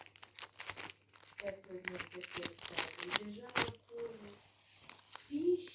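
Small plastic cosmetics packet crinkles and rustles in irregular bursts up close as it is opened while a voice speaks over it.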